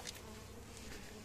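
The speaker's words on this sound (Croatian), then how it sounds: "Pčele to brane." Honeybees buzzing around an old, partly falling-apart wooden hive, a steady dense hum of many insects close by and fairly faint, without talk.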